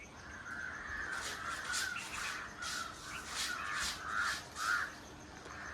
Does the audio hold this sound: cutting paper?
no